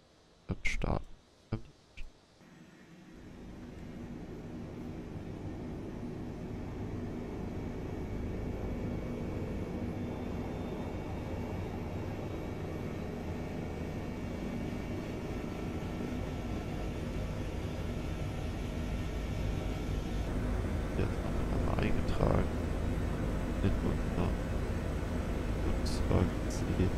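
Airliner jet engines spool up during start in Microsoft Flight Simulator 2020, a steady broadband roar that settles in after a few early clicks and swells gradually louder toward the end.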